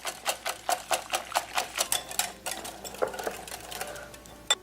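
Onion and spices for egg bhurji mixed in a bowl: quick, rhythmic clicking and scraping of a spoon against the dish, about a dozen strokes close by, slowing toward the end, with no talk.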